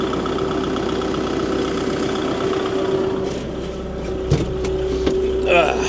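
A Kubota MX tractor engine runs steadily at a low, even drone, close and continuous, with a few brief knocks and clunks near the end.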